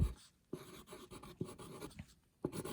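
A pen writing a single word on paper, several short scratchy strokes close up in a quiet room.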